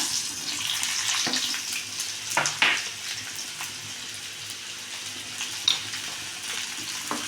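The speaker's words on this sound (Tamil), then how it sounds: "பாருங்கள், எண்ணெய் காய்ஞ்சிடுச்சு. இந்த மாங்காயை நம்ம அப்படியே போட்டுக்கலாங்க." Raw mango pieces frying in hot oil for a roasted-and-ground mango kuzhambu give a steady close sizzle with a few sharper crackles and stirring scrapes, no voices.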